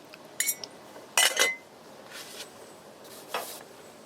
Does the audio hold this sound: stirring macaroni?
yes